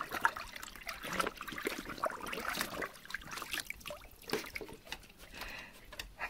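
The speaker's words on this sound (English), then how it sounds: "Are you blowing bubbles?" A German shorthaired pointer blows bubbles in water, giving a soft, continuous bubbling and trickling sound with uneven gurgles, fairly faint and close.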